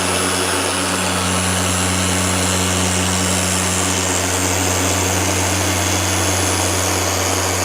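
A fast machine polisher running on car paint during paint correction, a loud steady motor whine with strong low hum, continuous and unbroken throughout.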